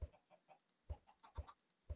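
Chickens in the video game Minecraft clucking softly, a few short separate clucks spaced irregularly, faint and close with nothing else heard.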